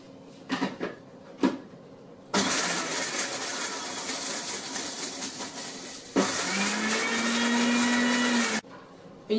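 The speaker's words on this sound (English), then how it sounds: "some curry leaves, I will coarse grind this for a minute," An electric grinder coarse-grinds red chilies and curry leaves for adai, two loud whirring bursts of several seconds each, the second rising in pitch, following a few clunks as the jar is set.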